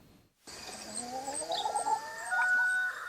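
Cage-free hens clucking and calling together, a chorus of rising, warbling vocalizations that starts abruptly and continues steadily, fairly loud and close.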